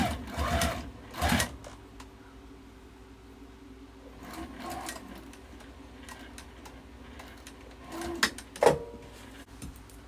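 A sewing machine stitches the bottom of a fabric wallet made from fat quarters, humming at a low level, with louder thumps and knocks breaking in at the start and again near the end.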